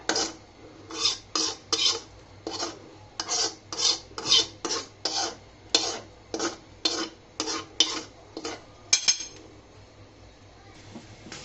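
A metal utensil scrapes and clinks against a pan while lifting out fried vermicelli, about twenty quick strokes in a steady rhythm, close and fairly loud, with no talking.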